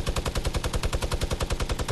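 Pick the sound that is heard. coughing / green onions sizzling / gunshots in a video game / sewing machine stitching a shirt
gunshots in a video game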